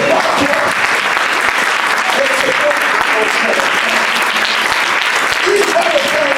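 Church congregation applauding and cheering during a French-language sermon, a dense, continuous wash of clapping and crowd voices that holds steady throughout.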